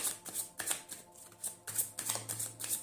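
Tarot cards being shuffled and drawn, close soft riffling and flicking in repeated bursts with a light rhythmic flutter and no voices.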